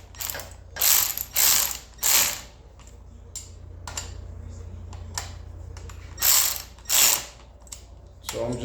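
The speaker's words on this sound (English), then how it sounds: "This ratchet thing only does like 10 foot-pounds." Close, loud bursts of a ratchet wrench clicking as handlebar riser bolts are tightened on a Moto Iron springer install, short rapid ratcheting runs separated by pauses, with occasional light tool knocks.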